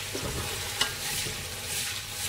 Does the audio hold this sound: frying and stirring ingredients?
yes